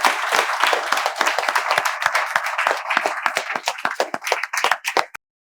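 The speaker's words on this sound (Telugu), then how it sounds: "మీరు వీలైనంత త్వరగా వచ్చి ఇంగ్లీష్ నేర్చుకోవాలని మేము చప్పట్లతో వెల్కమ్ చెప్తున్నాం." A group claps hands in welcome, a dense, close run of clapping that thins toward the end into a few scattered final claps before stopping.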